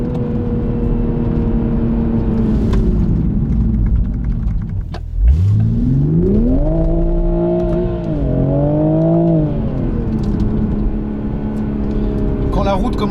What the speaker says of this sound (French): des petites déflagrations sympas à l'échappement quand même